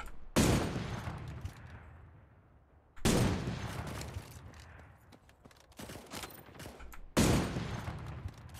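Three loud, booming sniper rifle shots in the video game Cyber Hunter, spaced a few seconds apart, each with a sharp crack and a long rolling echo tail, with faint game ambience between.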